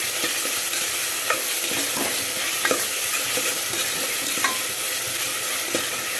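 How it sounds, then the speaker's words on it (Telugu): Spices sizzle steadily in hot oil for a mutton curry, a constant close frying hiss with occasional scraping stirs, no voices. "ఇది మంచిగా వేగాలి, వేగి వాసన రావాలి"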